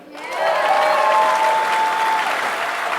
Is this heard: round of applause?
yes